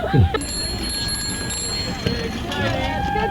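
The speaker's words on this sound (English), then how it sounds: "And ring your bell, maybe." At an outdoor hospital golf tournament event, a child rings a bicycle bell: bright, metallic rings that linger, a couple of them clearly struck, heard under an adult speaking nearby and a little crowd murmur.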